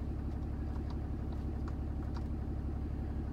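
A 2017 RAM 2500 Longhorn diesel engine idles at raised speed in a steady, low, throbbing rumble that carries on continuously and close by.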